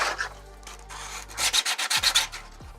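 Quick back-and-forth hand sanding strokes rasp against a hard 3D-printed plastic part, speeding into a steady rhythmic scrubbing near the end.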